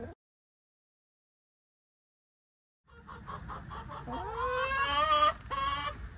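Hens clucking loudly and continuously at close range, building to a busy, overlapping chorus after a brief opening sound and a few seconds of silence.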